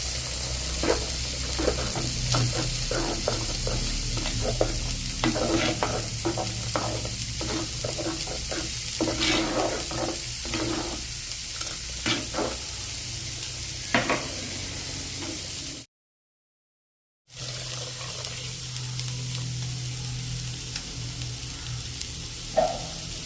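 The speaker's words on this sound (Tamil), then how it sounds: "பருப்பு குழம்புக்கு நாங்கள் வந்து தூள் போட்டு" Spice powder stirred into dal curry in a frying pan, a continuous close sizzle with repeated light scraping stirs, broken by a short total silence before the frying resumes.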